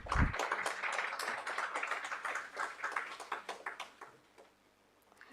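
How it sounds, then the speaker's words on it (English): An audience at a training programme claps together, a dense patter of applause that fades out toward the end. "Please join with me in welcoming them with the big round of applause."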